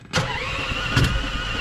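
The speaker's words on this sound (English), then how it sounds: "turn the key on." A small golf cart engine cranks and catches with a key turn, then runs at a steady close-up idle with a brief surge near the end.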